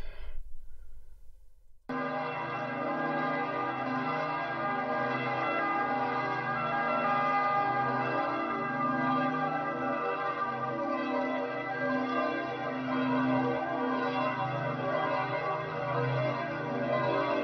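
Church bells in Rome ring on and on with rich, overlapping tones, a steady mass of pealing that continues without pause after a brief quieter start.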